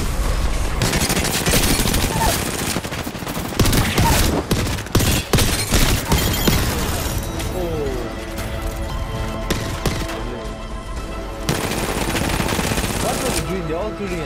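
Rapid gunfire from a video game shootout, dense bursts of automatic fire and overlapping shots that stay loud and nearly continuous, with player voices talking over them.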